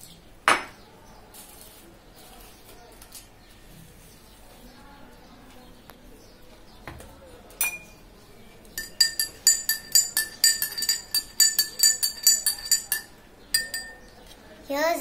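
A metal spoon stirs food-coloured water in a glass, clinking against the sides in a quick run of bright, close taps after a few quieter knocks, with faint birdsong in the background.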